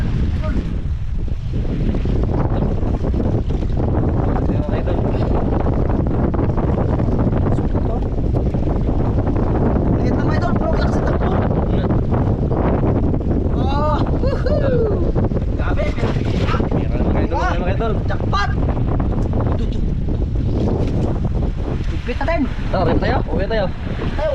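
Strong wind buffets the microphone at sea, a constant roaring gust over boat and water noise, with faint voices now and then.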